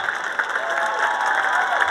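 A large crowd applauds and cheers loudly and continuously after a Big Ten wrestling win at 174 pounds, Michigan over Nebraska, a dense roar of clapping with no break.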